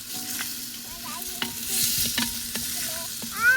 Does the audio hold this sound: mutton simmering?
yes